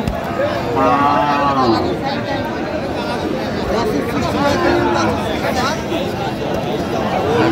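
Thin, bony dairy cows at a crowded cattle market in Aftabganj, with a few moo-like calls rising briefly over constant loud crowd chatter and people talking nearby.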